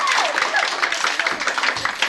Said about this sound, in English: let's give Lindsay and Corey a big round of applause